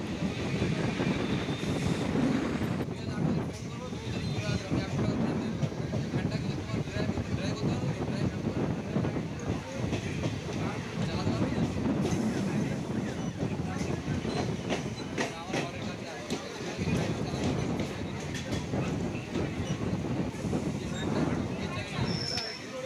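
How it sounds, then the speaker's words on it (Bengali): A suburban passenger train rolls into Lungi station on the rural stretch near Budge Budge, its steady rumble and wheel clatter heard from on board with wind buffeting the microphone and voices underneath. "ট্রেন কিন্তু লুঙ্গি স্টেশনে ঢুকছে।"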